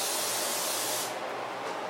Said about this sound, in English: So we're adding cooking spray.